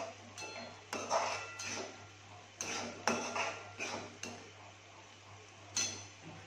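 Fried paneer is stirred into masala in a pan with a metal spoon, making irregular clinks, scrapes and taps close by over a low, steady hum.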